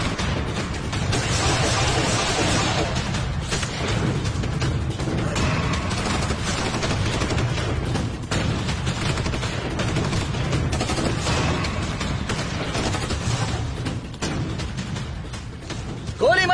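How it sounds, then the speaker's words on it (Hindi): Dense movie gunfire crackles continuously in rapid bursts, loud and chaotic like a firefight, with shouting voices mixed in among the shots. "उन्होंने गोली चलाना बंद क्यों किया?"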